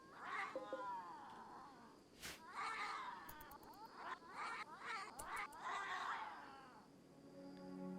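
Several cats meow and caterwaul in RimWorld, rising and falling yowls overlapping one another across the scene, with a sharp click or knock partway through and a lower tonal tail at the end.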